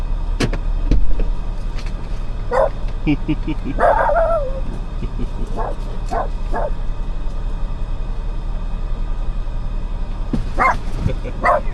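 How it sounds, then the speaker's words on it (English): A dog barks in short scattered bursts, some near and some a little farther off, over a low engine-like hum in a rural Tennessee mountain setting, with a voice heard briefly. "Is he a friendly dog?"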